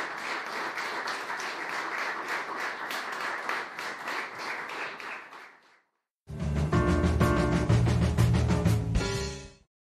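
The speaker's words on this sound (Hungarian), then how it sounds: "egyórás koncertjét vastapssal díjazták az egybegyűltek" A concert audience gives loud, sustained applause after a one-hour performance. The dense clapping lasts about six seconds and fades, then after a brief silence a different loud, full-band sound starts.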